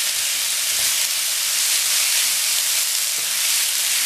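Bagoong fried rice sizzles and hisses steadily in a hot pan just after being flipped, a continuous, close frying crackle with no talking.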